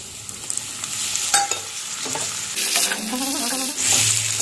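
Pork with tomato and mustard greens is stir-fried in a hot pan, a close, loud sizzle with scraping stirring strokes that grows busier toward the end, with no talk.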